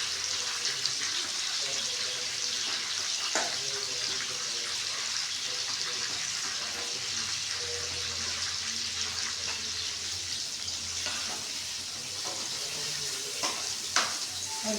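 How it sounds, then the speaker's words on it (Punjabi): Soybean chunks (nutri) slowly frying in a kadai pan give a steady close sizzle with occasional stirring scrapes, continuous and moderately loud throughout. "ਇਸ ਤਰ੍ਹਾਂ ਆਪਾਂ ਕਾੜੀ ਨੂੰ ਹੌਲੀ ਹੌਲੀ ਫਰਾਈ ਕਰ ਲਾਂਗੇ"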